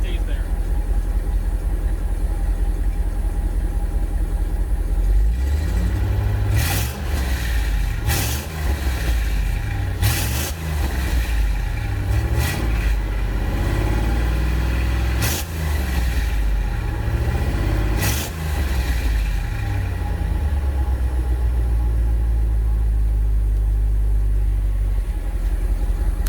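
A new truck's engine idles steadily up close and loud, with several sharp revs rising and falling over the middle of the run before it settles back to idle.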